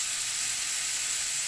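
Onion, garlic and chili sautéing in a hot pan, a loud, continuous close sizzle and crackle of frying oil with no voices.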